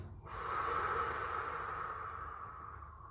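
A single long exhale through the mouth during a cool-down breathing exercise, a close, breathy rush that starts abruptly and fades gradually over about three seconds.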